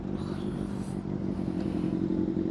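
A Kawasaki ZXR motorcycle passes on an expressway with a steady, loud engine drone and a faint whoosh of wind and road noise, and no voices.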